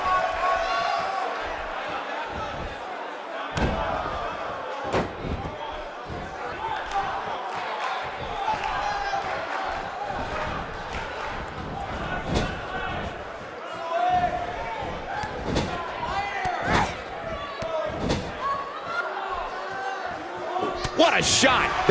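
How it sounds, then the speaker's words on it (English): An arena crowd at a 1985 AWA women's wrestling match between two wrestlers roars steadily throughout, with sharp slams and thuds from the ring breaking through and a commentator talking over it. "And by the sound of this crowd tonight, it's easy to see why."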